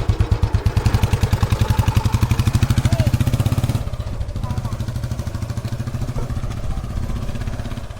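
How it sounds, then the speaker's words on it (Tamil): A 2003 ex-army Royal Enfield Bullet motorcycle idles with its distinctive steady thumping beat, close and loud, then softens slightly midway while someone talks over it. "ஸோ வண்டியோட பீட்டு வந்து பார்த்திங்கன்னா ரொம்ப சூப்பராக இருக்குது"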